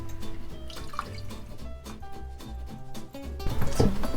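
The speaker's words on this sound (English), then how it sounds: "We're adding some water" Water splashes and trickles into a cooking pot of curry with potatoes in uneven bursts, with clinks and drips, ending in a louder splash near the close.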